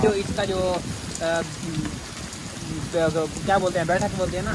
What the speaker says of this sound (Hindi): दोस्तों अभी ये देखें कितनी बारिश शुरू हो गई है